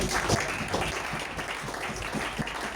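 A church congregation applauding through a sermon in French, dense continuous clapping with some cheering voices mixed in, moderately loud and sustained.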